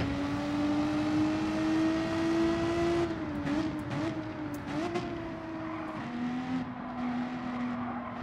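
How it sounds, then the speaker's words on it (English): The Renault RS01 GT3 in Gran Turismo 7 racing at Spa-Francorchamps, its engine droning steadily with pitch shifts as it spins its wheels out of a corner, the tone dipping and recovering under continuous game audio. "a bit of wheel spin there towards the exit of the corner"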